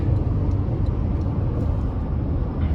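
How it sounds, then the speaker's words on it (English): A 2024 Toyota Land Cruiser with the i-Force Max turbo hybrid powertrain accelerates, heard from inside the cabin as a steady, loud low engine and road rumble with no talk. "That turbo really kicks in, and then having the electric powertrain as well just makes it that much easier to accelerate with."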